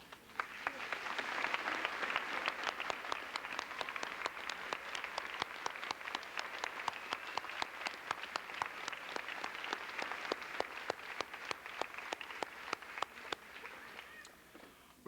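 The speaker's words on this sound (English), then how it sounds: "please stand up now and receive our applause and thank you for a job well done" An audience claps steadily for parent volunteers at a school band event, a sustained round of applause with distinct individual claps standing out, moderately distant and fading at the close.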